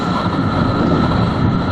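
Bajaj Pulsar 220 ABS BS6 motorcycle engine while riding, a steady, dense engine drone mixed with wind rush that stays constant for the whole moment, with no talking.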